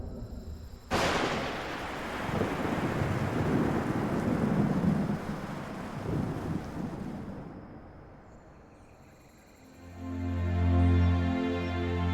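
A spring thunderstorm over a meerkat habitat begins with a sharp, loud crack of thunder, followed by long rolling rumbles and steady rain that fade over several seconds before a tonal musical swell enters.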